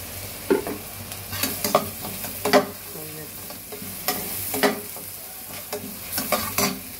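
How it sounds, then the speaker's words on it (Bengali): Fenugreek seeds frying in hot oil as a tempering for a curry, a soft continuous sizzle broken by intermittent scraping and stirring of the pan, close by and with no one speaking. "মেথি দিচ্ছি"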